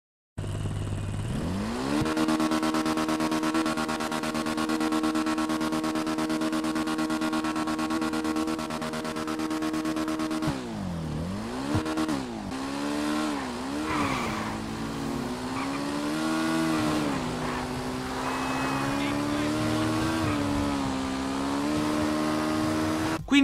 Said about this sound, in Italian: vi faccio sentire il rombo del suo motore